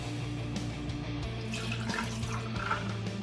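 Hot tea poured over ice for a drink, giving a steady close stream of splashing liquid throughout with faint clinks and trickles.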